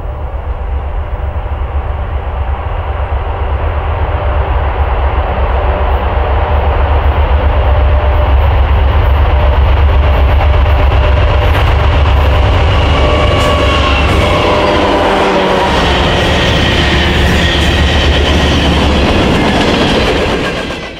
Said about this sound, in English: Here, trains have to work hard up the grade, and it makes for quite a sight.